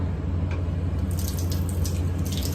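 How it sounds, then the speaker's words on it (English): Water runs from a tap into a sink indoors, a steady close splashing trickle with small bright drips over a low continuous hum. "the water is running."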